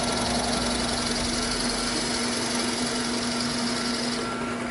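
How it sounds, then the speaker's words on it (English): A power drill whirs steadily and continuously at close range, a constant high-pitched motor drone with no pauses. "on this side, I'm going to drill about 1 inch"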